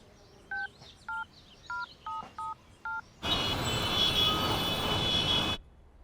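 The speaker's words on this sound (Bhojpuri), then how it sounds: "फोनवा में मदन के नाम खोज के फोन लगा देता" A phone number being dialed as six crisp, evenly spaced touch-tone beeps, followed by a sudden loud, steady roar of noise that cuts off abruptly.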